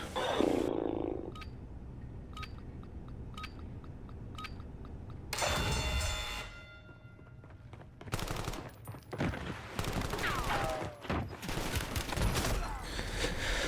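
Gunfire in a Call of Duty Warzone gulag fight, with sharp repeated shots and bursts over a busy game mix, loud and close, ending in a dense volley.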